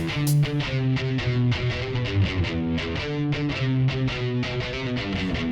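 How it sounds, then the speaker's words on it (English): A distorted electric guitar plays a rhythmic riff of repeated picked notes and chords, steady and loud, with no voices. "So the guitar riff comes in."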